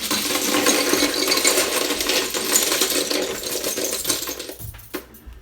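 Cleaned plastic keycaps from a Telecomet Japanese terminal pouring into a container, a dense continuous clatter that thins into a few last loose clicks and rattles at the end, close and loud with no talking.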